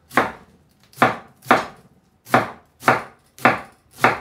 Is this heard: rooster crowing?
no